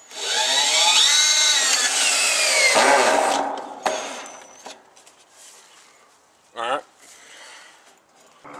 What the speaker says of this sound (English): attach this bottom gutter to this fence using some 3-inch screws and the drill